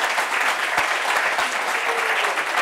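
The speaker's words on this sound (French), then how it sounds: "on peut applaudir" Studio audience clapping in a continuous, even wash of applause, moderately loud and unbroken for the short stretch, with no talk over it.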